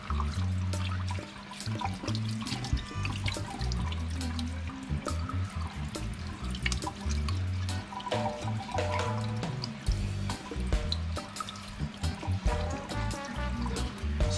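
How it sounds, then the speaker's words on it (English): Water runs steadily from a tap while fish are rinsed for Jamaican brown stew fish, with splashing and clattering pieces under the continuous flow; no talk. "wash them till they see the water clear"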